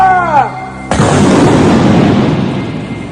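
A massed rifle volley from a firing squad rings out as one sudden, loud crack that rolls into a long, dense rumble of echo and smoke-filled din, lasting several seconds. It follows a brief tonal sound.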